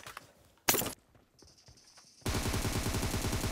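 Gunfire in the PUBG Mobile video game: a sharp single shot, then a brief quiet with a faint tone, followed by a dense rapid burst of automatic fire that continues loudly to the end.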